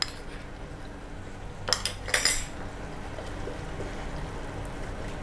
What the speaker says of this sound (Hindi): लहसुन का पेस्ट, इसके साथ थोड़ा भूनेंगे इसको।